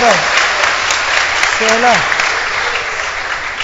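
Audience applause at a rabbi's lecture, a loud, dense wash of steady clapping that continues throughout, with a voice speaking briefly over it.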